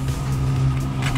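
A car climbs the mountain road up to the Kristallhütte in the Zillertal, its interior filled with a steady low engine drone and road hum, fairly loud and continuous.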